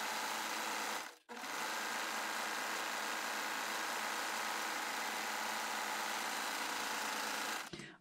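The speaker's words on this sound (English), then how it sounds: "let's go ahead and run this through the serger again" A serger overlock machine stitches knit fabric to gather ruffles, a loud, steady high-speed mechanical whir that stops briefly near the start, resumes and runs for several seconds, then cuts off at the end, with no speech.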